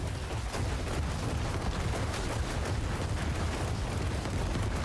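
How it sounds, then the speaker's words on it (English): Corpse explosion skill in Diablo 4, a dense continuous roar of blasts and crackling detonations filling the whole stretch, loud and unbroken with no talk over it. "The standard corpse explosion does so much damage."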